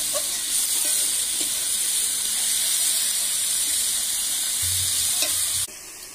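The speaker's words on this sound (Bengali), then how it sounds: "এইবার ভালোভাবে পেঁয়াজটাকে ভেজে নিচ্ছি" Onions with two spoons of salt sizzle and fry steadily in a hot pan for a chicken skin dish, a loud, continuous hiss with faint stirring scrapes and no talking.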